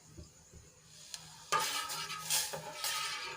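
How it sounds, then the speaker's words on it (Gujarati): A spoon stirs milk in a metal pot heating on a gas stove, with faint scraping and clinks against the pot that grow busier and louder partway through, over a low hiss. "આ રીતે આપણે ચમચા વડે દૂધને હલાવતા રહેશું"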